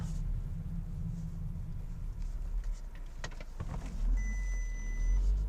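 A 2017 Volkswagen Golf R makes a U-turn, its engine a low steady rumble heard from inside the cabin, swelling slightly toward the end with faint interior clicks.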